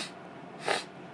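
A single short sniffle comes partway through, a quick close breathy draw of air through the nose against a quiet background.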